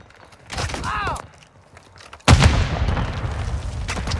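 A frag grenade going off in Call of Duty MW II hardcore multiplayer: a short radio voice, then a single sudden loud blast with a deep rumble that decays over the next couple of seconds.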